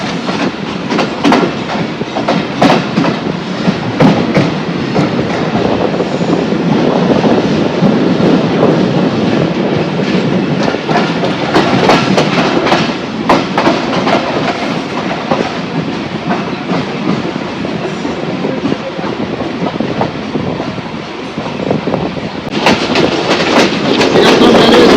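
A Joydebpur commuter train rolls past a railway station with loud, continuous rumble and rhythmic clatter of wheels over rail joints, heard close throughout.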